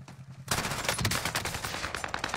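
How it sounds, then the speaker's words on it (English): Rapid video-game gunfire in a sustained burst of automatic shots, loud and dense after a brief quieter lead-in, with no talking over it. "I'm getting shot by the other guy when he's there."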